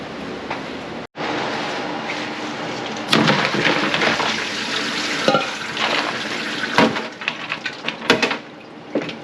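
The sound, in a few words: water rinsing pickles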